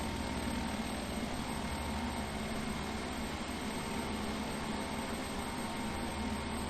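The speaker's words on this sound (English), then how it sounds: "I heard the engines rev up." Twin turboprop engines of a Beech King Air 350 in the FSX flight simulator give a steady low engine drone with a faint high whine, holding an even level without any clear surge throughout.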